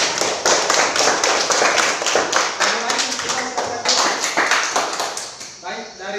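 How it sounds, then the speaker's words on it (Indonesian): A classroom of pupils claps in quick, uneven bursts of sharp hand claps, loud and close, fading near the end, with voices mixed in. "tepuk tangan buat Ekin"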